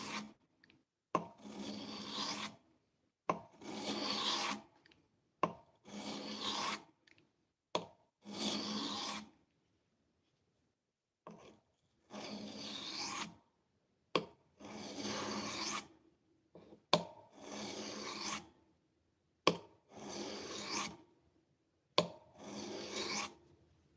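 Knife blade sharpened on a whetstone: repeated rhythmic rasping strokes in short bursts, close and crisp, with a longer pause midway before the strokes resume at a steady pace.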